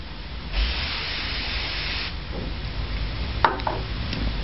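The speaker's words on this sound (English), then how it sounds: "swiping the surface, and then spraying with the aerosol" Aerosol spray misted onto a drug detection test paper, a steady broad hiss lasting about one and a half seconds, followed by faint handling clicks and rustles at close range.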